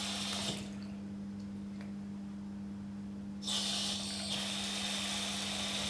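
Water running from a tap as hands are washed, a steady splashing rush that briefly drops away and then returns louder over a constant low hum.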